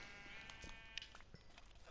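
A sheep in the Minecraft video game gives a faint, thin bleat amid quiet game sound, with a few soft clicks and taps scattered around it.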